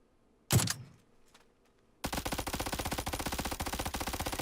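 Suppressed SMG bursts in PUBG: after an earlier single loud crack and a faint pop, a rapid, even stream of muffled automatic shots rattles continuously for over two seconds, close and punchy.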